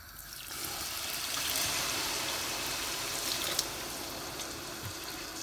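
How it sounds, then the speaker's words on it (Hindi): A glass of water is poured into a pot of sugar for a sweet rice dish, making a steady, soft rushing splash that runs for several seconds with no talking. "मैं इसमें 1 गिलास पानी डालूंगी ताकि चीनी और पानी जो है वो मिक्स हो जाए"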